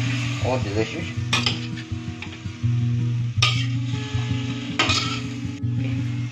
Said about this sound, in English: we're going to put some cooked fish into the wok. And now we're going to stir it up